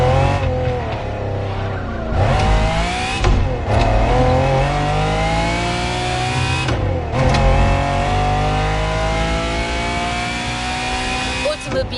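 A Lamborghini engine revs hard in The Motor Fest video game, loud and close, with rising and falling pitch sweeps as it accelerates and shifts, and a voice talking over it.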